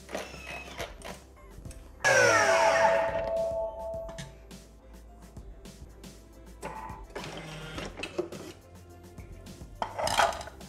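A Thermomix bowl whirring at top speed to pulverize sugar with lemon zest, a loud grinding roar that starts abruptly and then settles into quieter rattling bursts.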